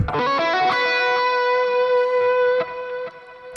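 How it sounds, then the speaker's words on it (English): A sustained electric guitar chord rings out and fades slowly into a long, shimmering reverb tail, with a few soft string clicks near the end. "is a long reverb tail"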